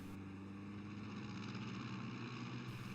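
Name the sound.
airplane flying overhead, from video game The 39 Steps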